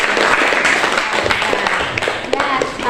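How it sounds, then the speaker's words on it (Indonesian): Classroom applause from students, a burst of brisk scattered hand clapping filling the room at close range, steady for a few seconds with faint voices mixed in. "Tepuk tangan dulu"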